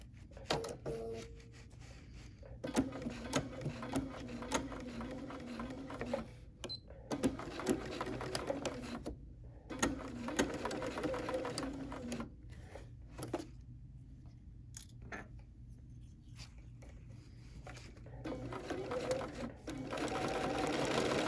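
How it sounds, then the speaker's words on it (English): A BERNINA sewing machine stitches a quarter-inch seam around the head of a teddy bear in several close bursts of rapid whirring separated by brief pauses and small mechanical clicks. "now we're going to stitch our 1/4 inch seam"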